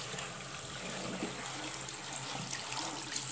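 Warm tap water runs steadily over dirty fish tank filter media, a faint continuous splashing hiss with no voices.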